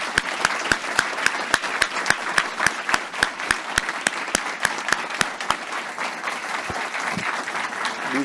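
A graduation audience gives a round of applause for program mentors, with a nearby individual clapping in a sharp, steady rhythm over the softer crowd clapping, which fades toward the end.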